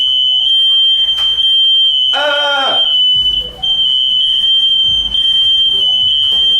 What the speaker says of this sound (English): My fire alarm!